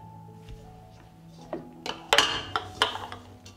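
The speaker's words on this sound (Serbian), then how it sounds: "na dno stavljam krpu i unutra ređam tegle" Glass jars set one by one into a cooking pot lined with a cloth. A series of close, dull knocks and light glassy clinks is heard, busiest toward the end, with no speech.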